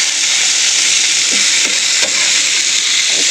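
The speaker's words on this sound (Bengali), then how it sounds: "এই মাছগুলোর এক পিঠ ভালো করে ভাজা হয়ে গেছে, আর এক পিঠ আমি উল্টিয়ে দেবো" Fish fries in a nonstick pan with a loud, close, continuous hiss of hot oil that holds steady throughout, with faint bubbling pops underneath.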